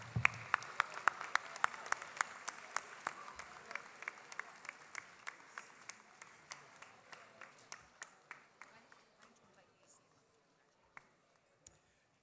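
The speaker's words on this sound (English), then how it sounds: "a big round of applause to our next year's Prefects Council" An audience at a school ceremony applauds the incoming prefects council, the clapping falling into a rhythmic beat that slows and fades, ending in a few scattered last claps in a quiet hall.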